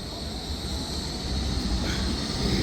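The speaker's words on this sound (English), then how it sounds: "That is the tram." A tram rolling through Blackpool town centre on a bright day, a loud steady rumble of wheels on rail with a high metallic whine riding above, growing slightly louder as it passes close by.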